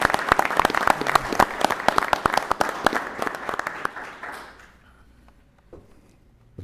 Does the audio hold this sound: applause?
yes